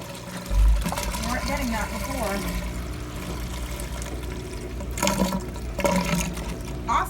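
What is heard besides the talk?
washing machine draining water on spin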